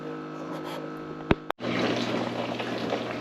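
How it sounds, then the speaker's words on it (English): A Capsule countertop dishwasher runs a rinse cycle on fruit: after a low hum and a couple of sharp clicks, water starts spraying with a steady, close rushing and splashing sound. "So now we're definitely running a rinse cycle."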